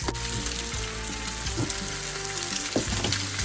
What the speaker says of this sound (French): Quand le beurre est fondu, je commence à mettre mes pains perdus.